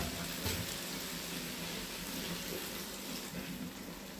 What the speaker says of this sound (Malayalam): ലേശം ബീഫിൻ്റെ വെള്ളം ഒഴിച്ച് കൊടുത്താൽ